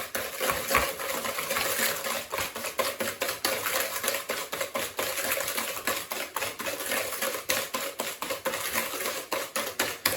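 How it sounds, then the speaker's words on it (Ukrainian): Wire whisk beating cake batter with sugar in a bowl, a dense run of quick metallic scraping and tapping strokes, steady and close with no pauses. "І збиваємо вінчиком"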